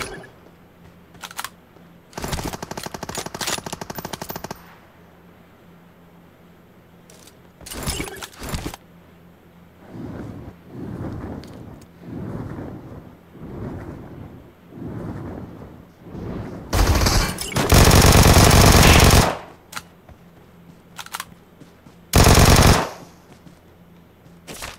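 Vector SMG fire in PUBG Mobile comes in loud, rapid bursts with gaps of quieter clicking and movement between them. A long sustained spray sounds near the end.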